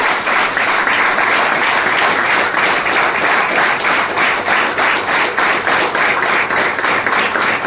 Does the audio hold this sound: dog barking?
no